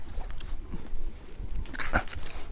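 A dog whining and whimpering while stuck at the edge of a pond in a park, a few short faint cries over outdoor rustling, with a high whine near the end.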